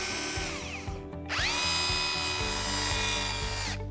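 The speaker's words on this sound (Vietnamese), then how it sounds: "Tiếng máy của thằng Yamaesu." A Yamaesu cordless concrete drill runs steadily in no-hammer rotation mode, a loud, close, continuous motor whine with a few short pauses and speed changes, and no one talking.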